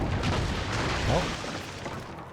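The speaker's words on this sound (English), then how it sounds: "They're shooting my ship again, aren't they?" Cannon fire booms against a ship in the Assassin's Creed Rogue naval game, a dense rumbling barrage of blasts filling the whole stretch at close, loud range.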